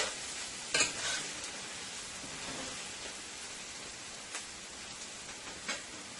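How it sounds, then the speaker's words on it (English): Potato pieces fry in a pan for Guyanese-style sautéed spinach, giving a steady close sizzle with a few louder stirring scrapes and pops and no talk. "I'm going to let this potato continue to fry for about another 2 to 3 minutes"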